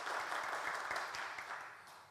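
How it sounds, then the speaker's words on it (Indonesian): Church congregation at a Sunday worship service breaking into applause, a dense wash of clapping heard steadily and fading slightly toward the end. "Beri tepuk tangan dulu untuk Tuhan kita"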